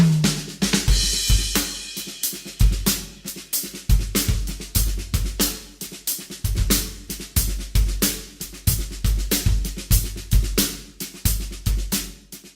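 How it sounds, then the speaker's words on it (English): A drum kit plays a quintuplet shuffle groove, with steady kick and snare hits under busy cymbal strokes in a lilting five-note feel, loud and close with no talking. "In this video, we're going to learn to play quintuplet shuffles."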